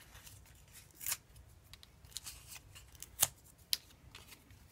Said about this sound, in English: some type of backing tape that we are going to just take off